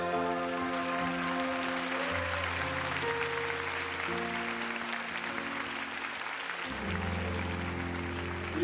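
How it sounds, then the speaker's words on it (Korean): A church congregation claps loudly and continuously during a Korean evening worship service, with sustained keyboard or organ chords playing beneath the applause. "우리 마지막으로 가장 큰 박수로 하나님께 올려드립시다."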